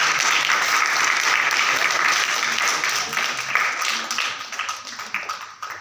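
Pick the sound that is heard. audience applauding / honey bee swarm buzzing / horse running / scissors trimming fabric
audience applauding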